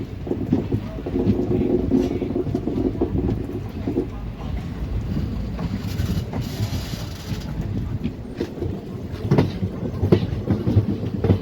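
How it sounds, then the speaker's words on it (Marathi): Special train 07032 with ICF coaches pulls away from Vikarabad Junction with a continuous close rumble and rhythmic clickety-clack of its wheels. Some mechanical rattles and knocks rise out of the steady noise. "1 मिनिटाच्या स्टॉपनंतर विकाराबाद जंक्शनवरून आपली ट्रेन जी आहे ती निघालेली आहे"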